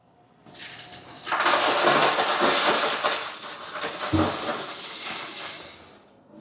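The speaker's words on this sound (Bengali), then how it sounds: "এখন হপারের মধ্যে ঢেলে দেবো।" Mixed snack packets pour into the hopper of an automatic pouch packing machine, giving a sustained rushing, rattling cascade for several seconds with a brief thump near the end, fairly close.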